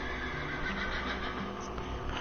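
A horse in the video game Minecraft gives a loud, sustained whinny that fills the whole stretch, dense and close, with faint clip-clop underneath and no talking.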